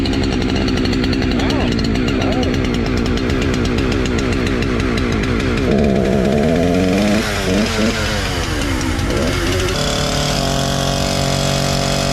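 An electric chainsaw clears an overgrown trail with a loud, sustained buzzing whine whose pitch dips and rises as it bites into wood, then settles to a steadier tone near the end.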